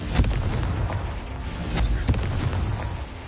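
A Confringo fire spell explodes in Hogwarts Legacy with loud, booming blasts that roll and rumble continuously, with a sharp burst near the start and another partway through.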